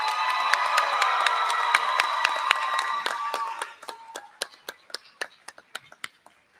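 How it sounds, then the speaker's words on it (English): A graduation audience breaks into applause, dense and steady for about three and a half seconds, then thins to a few scattered individual claps that trail off. "Students, can we give your family and friends a quick round of applause?"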